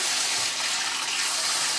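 Tap water runs steadily into a kitchen sink while being warmed, a continuous broadband splashing hiss that stays loud and even throughout, with no talk.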